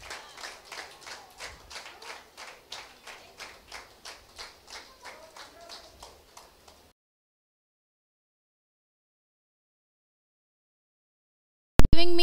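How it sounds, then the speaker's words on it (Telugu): Audience at a women's conference applauds in steady rhythmic clapping that fades out after several seconds, followed by a long silence and then a sudden loud burst at the very end. "షాల్ వేస్తుండగా మరి మనం మంచిగా చప్పట్లు కొట్టి ఆవిడని అభినందిద్దాం."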